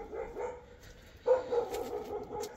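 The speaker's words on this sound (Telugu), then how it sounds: "వినిపిస్తుంది కుక్క" A dog barks outside a homestay parking area in Darjeeling, a few muffled, moderately distant barks that grow louder midway, with no talk.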